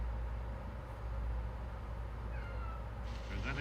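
A lonely cat meows and whines in short, faint cries near the end, over steady low background hum and a quiet voice.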